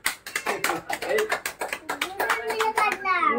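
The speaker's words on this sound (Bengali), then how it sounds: "হাততালি দাও" Hands clap in quick repeated bursts at a family anniversary celebration in a restaurant, mixed with a voice and other people talking close by.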